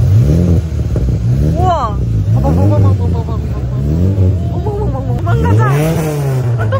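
Several car engines at a car meet start up and rev, their exhaust notes rising and falling in repeated swells close by, with excited voices talking over them.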